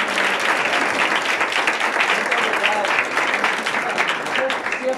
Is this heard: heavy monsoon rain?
no